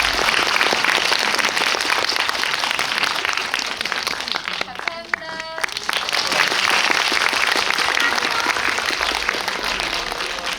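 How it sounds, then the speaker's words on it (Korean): Audience applause for a film director and actors at a Korean movie screening event, sustained dense clapping filling the whole stretch, with a brief dip midway where a faint voice is heard. "내려가실 때 다시 한번 큰 박수 부탁드리도록 하겠습니다."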